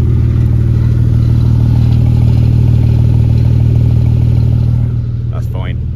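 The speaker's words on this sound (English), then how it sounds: "some people will view exhaust noise as a nuisance" A car exhaust rumbles at a steady idle, deep and loud close up, then drops away near the end as a faint squeak is heard.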